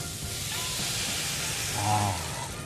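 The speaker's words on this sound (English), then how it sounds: "Listen to that sizzle." Heavy cream and leeks sizzle in a hot pan, a steady broad hiss with a brief swell of bubbling near the end, close and moderate in level with no talk over it.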